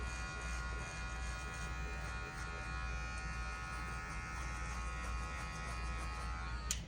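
Electric hair clippers run steadily with a close, constant buzz throughout while cutting a taper fade in a medium faux hawk with a bald fade.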